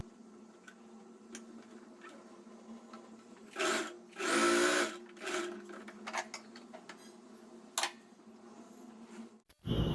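A sewing machine stitches a pleated gown made from an old saree in a few short, close bursts of motor whir, separated by quieter ticking and fabric handling, with no one talking.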